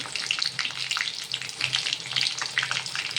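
Garlic and curry leaves fry in hot oil in a pan for an egg-free vegetable masala, producing a continuous crackling sizzle with rapid spitting pops throughout, no voices.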